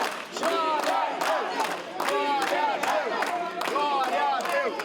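A crowd in a legislative assembly boos and jeers at deputies in repeated surging waves of shouting voices, loud and sustained throughout.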